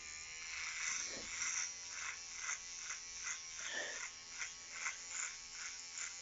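Electric beard trimmer running continuously as it shaves off a full beard and moustache, a steady close buzz with rhythmic dips and swells as strokes pass over the hair, no talking.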